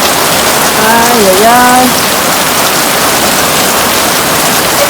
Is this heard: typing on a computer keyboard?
no